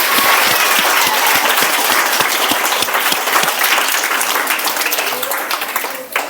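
A school audience at a class 8 and 9 result celebration in Jharkhand claps loudly and continuously, a dense wash of applause with some sharper nearby claps that carries on for over six seconds before easing off.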